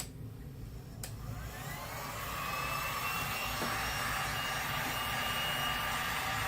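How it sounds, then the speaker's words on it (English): A hair dryer blows steadily, whooshing and whining, growing louder after a couple of seconds and then holding a constant loud drone. "Drop my hair dryer. All right, here's some noise."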